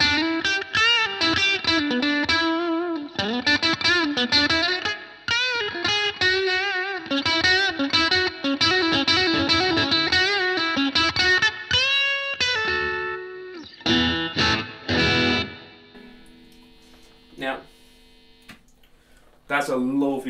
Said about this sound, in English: here's how this sounds on just the overdrive switch being engaged